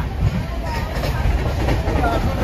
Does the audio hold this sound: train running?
yes